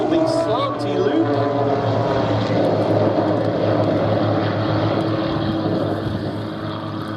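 A mixed formation of propeller aircraft flying at the Duxford air festival, their engines giving a loud, continuous drone that stays steady throughout, with a commentator talking over it.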